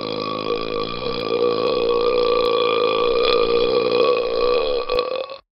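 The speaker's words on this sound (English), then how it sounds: "I burped in class." A long, loud, continuous burp rumbles for about five seconds in a classroom scene, steady throughout before cutting off abruptly.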